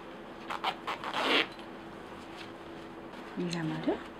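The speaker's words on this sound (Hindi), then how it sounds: "अब इसमें हम रनर डालेंगे।" A metal zipper runner slides onto the zipper teeth of a homemade handbag, giving short close zipping rasps early on, the longest near the middle, while someone talks.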